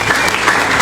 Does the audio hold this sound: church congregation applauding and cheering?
yes